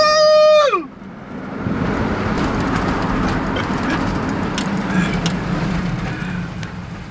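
A skateboard bombs down a steep hill with bigger wheels and speed bearings, making a loud continuous wheel roar that rises right after a short tone at the start and holds steady.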